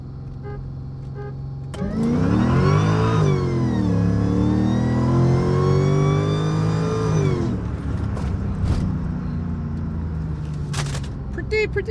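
A supercharged Mercedes E55 with the M113k V8 and an upgraded 92mm throttle body makes a loud full-throttle pull, its engine note rising steadily for several seconds before easing off to a quieter cruise.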